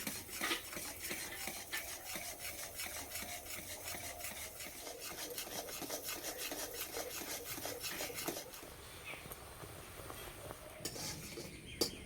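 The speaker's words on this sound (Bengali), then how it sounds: "দুধটাকে জাল দিয়ে একদম ক্ষীর মেরে নেব।" A spoon scrapes steadily around a kadai of milk, enriched with powdered milk and thickening as it boils down. The rasping strokes are continuous and fairly quiet, with a few sharper clinks near the end.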